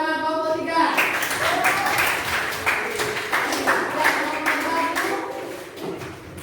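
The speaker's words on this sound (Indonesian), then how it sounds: "Tepuk tangan nomor 3." A school class claps hands together in a classroom, producing a dense, sustained patter of claps over several seconds after a voice briefly fades out.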